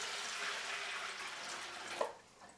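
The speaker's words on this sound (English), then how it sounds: "I have to add some water to the pressure canners" Water pours steadily into pressure canners at close range, a soft continuous splashing stream that fades out near the end.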